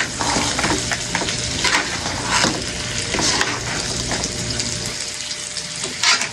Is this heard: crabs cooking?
yes